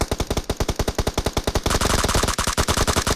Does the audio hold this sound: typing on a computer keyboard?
no